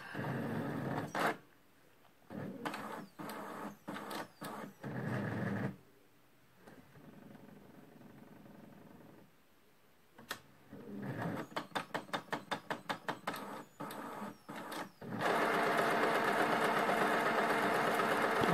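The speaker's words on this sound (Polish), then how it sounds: "Właśnie drukarka sobie czyści teraz głowicę." A Brother inkjet printer whirs and clatters in bursts while cleaning its print head, with a run of rapid rhythmic ticks, pauses between, then a steady loud grinding hum.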